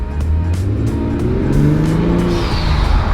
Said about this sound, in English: All right, so here we go for the blow-off valve sound.